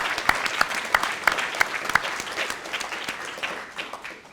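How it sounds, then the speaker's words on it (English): Graduation audience at the York River Academy ceremony applauding steadily, a dense wash of many hands clapping with a few sharper individual claps standing out, fading slightly toward the end. "Let's give them a big round of applause."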